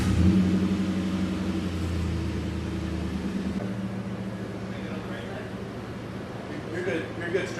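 A Lexus SC400 on newly installed coilovers idles and rumbles as it is driven out, the engine loudest early on and then settling lower, with people talking nearby.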